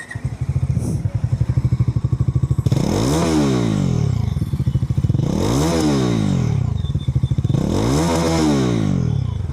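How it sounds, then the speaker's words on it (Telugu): A Bajaj Dominar 400 motorcycle with a double-barrel exhaust idles with a loud, close, thumping beat, then revs sharply three times, each rise and fall standing clear of any talk. "సో ఒకసారి మనం దీని యొక్క ఎగ్జాస్ట్ నోట్ అయితే మీకు వినిపిస్తాం చూడండి."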